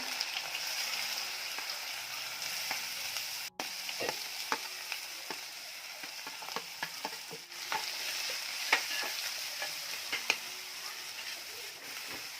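Chopped onions fry in hot oil, with a constant close sizzle and scattered sharp clinks and scrapes from stirring in the pan.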